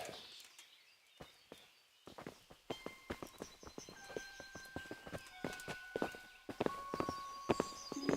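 Steady clip-clop of horse hooves walking on a hard surface in the video game Kingdom Come: Deliverance, a regular close rhythm that grows slightly louder, with a faint bird chirp in the background.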